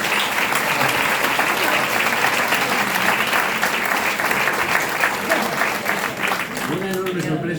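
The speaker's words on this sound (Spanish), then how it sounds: "le pido un enorme aplauso para él" An audience at a book presentation gives loud, steady applause filling the room, fading slightly as a voice starts speaking near the end.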